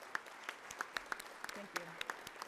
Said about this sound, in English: one last round of applause for the committee.